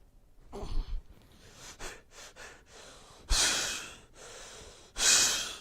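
Strained, labored breaths are made with the diaphragm deliberately compressed, close to the microphone: a low snort-like gasp followed by several short rasping inhales and two loud, harsh wheezing breaths separated by pauses.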